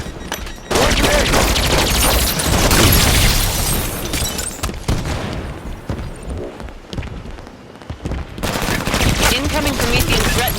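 Heavy gunfire and explosive booms from a Halo 5 Warzone battle, with dense rapid bursts and loud blasts filling most of the stretch, a brief lull near the end before firing resumes.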